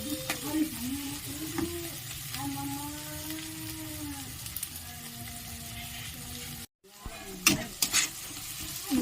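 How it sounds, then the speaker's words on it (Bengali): Vegetables for egg chowmein sizzle in a pan over a high gas flame, a steady frying hiss broken by sharp clanks of stirring, under a voice talking. "হাই ফ্লেমে কিন্তু এটা ভেজে নিতে হবে।"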